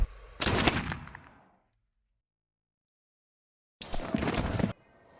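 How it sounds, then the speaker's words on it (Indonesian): A sniper rifle fires in a film: a loud, sharp blast with a booming tail that fades, then silence, then another heavy burst of similar force. "Dugan berhasil menghabisi ayah Elias hanya dengan 1 kali tembakan saja"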